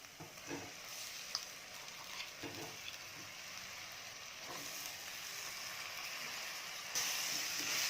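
Potatoes and peas sizzle steadily in hot oil with chili powder for a Tamil vegetable stir-fry, a dense continuous frying hiss with occasional spoon scrapes and stirring clicks, swelling brighter near the end.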